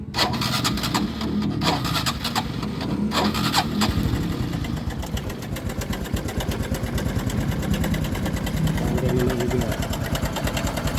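A Honda Wave Alpha 110 underbone motorcycle engine idling close by with a rapid, rattling mechanical clatter from a faulty tensioner, steady and loud throughout.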